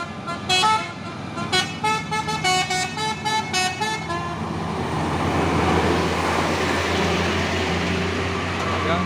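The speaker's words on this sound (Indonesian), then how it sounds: "Ada satu nih truk Fuso 6x4 HD dari GMT, Grand Mustika Trans." A Mitsubishi Fuso 6x4 HD truck from GMT goes by on a road climbing a hill. Rhythmic horn toots come first, then a rising engine and road roar as it passes, with a voice faintly heard.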